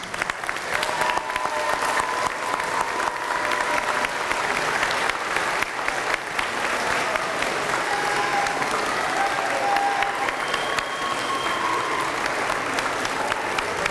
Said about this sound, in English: give a round of applause for all of these people here who've been for you and supporting you for the last 2 years